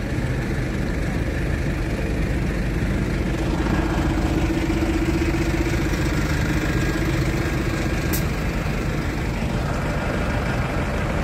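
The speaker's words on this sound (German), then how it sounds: "bis vor zur Siegeswürde stehen die mit ihren Trecker hier." Tractors idling at a farmers' protest in Berlin, a continuous loud low engine rumble with steady drone and no pauses, filling the street throughout.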